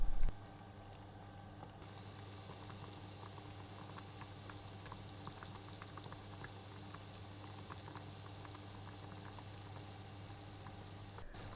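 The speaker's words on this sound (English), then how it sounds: "Place the sausage in boiling water to create the legs." Sausage simmering in a pot of boiling water for a Japanese bento, a quiet steady bubbling hiss with faint pops, continuous and low in level with no voices.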